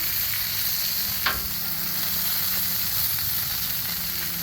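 Pork chops sizzle steadily in a pan, a constant bright frying hiss with a faint low hum underneath and one brief sharp crackle near the start, close and continuous with no talking.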